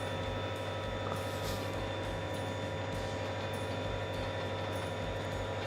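Train in Trainz 2022 pulled by two engines on a hilly route, giving a steady low engine rumble and rolling hum that runs unbroken throughout, with no talk.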